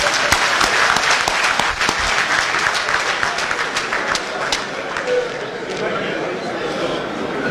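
Audience applause at the launch of the 2023 Hajj, a dense, sustained wash of many hands clapping, loud and close, with voices mixed in beneath.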